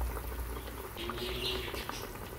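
Beef frying in hot oil over low heat gives a steady, soft bubbling sizzle, close and continuous with no talk.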